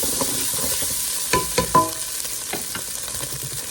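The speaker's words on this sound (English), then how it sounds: "We're gonna add our beef back in there." Beef going back into a simmering pot, a soft bubbling sizzle with a few sharp clinks and scrapes of a utensil against the pot near the middle, close and moderately loud, no voices.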